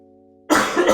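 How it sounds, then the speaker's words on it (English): A single sharp human cough bursts in about halfway through, loud and close, cutting off a low steady hum and trailing into a rough, breathy throat sound. "Hopefully I remember to cut that cough out."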